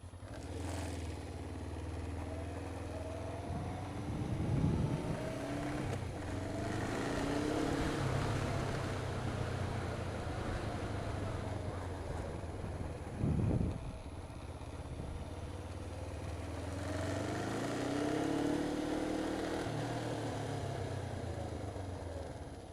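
A motorcycle rides round a training course, its engine droning and rising and falling as it circles and slows, near then farther off, with steady background hum and no talk.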